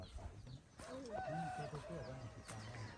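Chickens at a hillside village coop cluck and crow close by, one rooster call rising over the cackling flock, while a person talks nearby.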